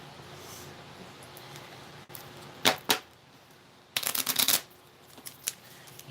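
Playing cards are shuffled and flipped in short crisp riffling bursts, two quick ones and then a longer rapid flurry followed by a couple of single flicks, close by in an otherwise quiet room.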